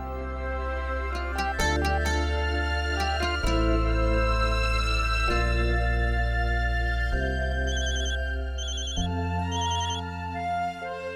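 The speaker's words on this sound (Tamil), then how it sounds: "வீட்ல இருந்து போன." Phone ringtone plays loudly and continuously, a melodic sequence of sustained synthesized tones with steady pulsing notes, no speech.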